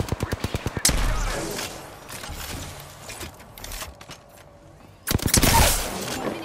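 Rapid automatic gunfire in Apex Legends opens with a quick, evenly spaced string of loud shots, goes quieter with a player's voice and game sounds, then returns in another loud burst near the end.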